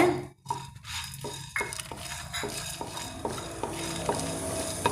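Black pepper is tossed into a sizzling pan of chicken ghee roast, a spoon scraping and stirring in several quick strokes over a steady frying hiss, close and clear with no voices.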